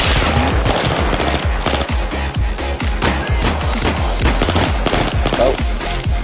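Rapid machine gun fire in the Battlefield 3 video game rattles on nearly nonstop, loud and dense with sharp repeated bursts, while players talk over the shooting.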